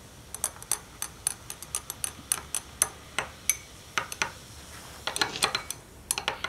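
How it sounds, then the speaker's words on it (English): A stirring rod taps and clinks against a glass beaker holding magnesium carbonate and acid, a run of quick, sharp, fairly quiet ticks repeating at an uneven pace. "Give that a stir to ensure it all reacts."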